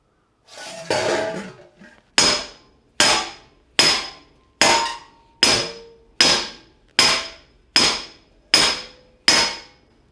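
A hammer rings sharply on metal on an anvil nine times in a steady rhythm while making a cymbal, each strike bright and loud with a quick decay, after a brief rustle at the start.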